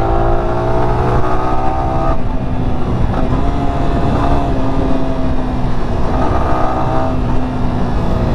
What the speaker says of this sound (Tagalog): Tuloy-tuloy lang i-throttle natin oh